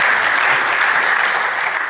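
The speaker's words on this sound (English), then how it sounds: "Let's give her a round of applause." Thick, even applause from a crowd at a Jamaica Diaspora community launch event in South Florida, loud and unbroken clapping that tapers slightly at the end.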